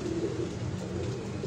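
A pigeon gives a low, soft coo that repeats a couple of times close by, over a faint background hum.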